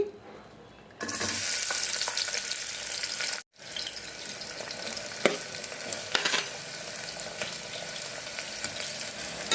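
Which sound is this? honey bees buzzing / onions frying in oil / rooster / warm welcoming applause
onions frying in oil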